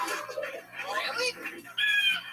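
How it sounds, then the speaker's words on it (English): A clucking, crowing chicken sound effect plays on a livestream, several short fowl calls in quick succession ending in a louder, drawn-out note, with speech mixed in. "You hear the sound of that random bird"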